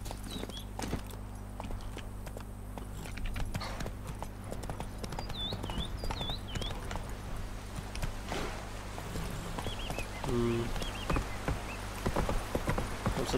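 A horse ridden at a walk in The Witcher 3: Blood and Wine, hooves clip-clopping in a steady rhythm over ambient game background, with a brief whinny-like sound partway through.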